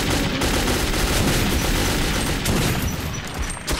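Dense, rapid gunfire in the video game Metro 2033, loud and continuous bursts of shots with no pause and no voices.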